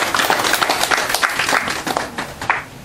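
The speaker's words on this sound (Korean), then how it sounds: "박수 한번" A church congregation at a memorial service claps for a few seconds, a dense burst of hand claps at moderate loudness.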